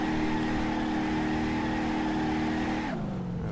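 A truck engine in BeamNG.drive revs steadily at high pitch while the vehicle spins donuts, then the revs drop and the engine note falls away near the end; loud and close, with no talking.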